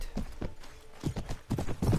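Horse hooves clip-clop in the video game Mount & Blade: Viking Conquest, a quick irregular run of thudding steps, close and moderately loud, with no talk.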